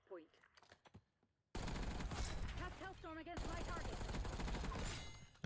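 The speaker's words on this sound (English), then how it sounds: "I was shooting through smoke" Rapid automatic gunfire in the video game Black Ops 6, a loud dense fusillade of shots under a voice talking, with quieter clatter at the start.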